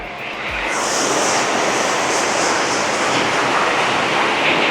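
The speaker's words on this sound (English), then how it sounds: "So it's very loud. As you can hear the water rushing by." Water rushing through a concrete channel into a reservoir in Jamaica, a loud, dense, unbroken roar that swells in the first second and then holds steady throughout, close by with no voices.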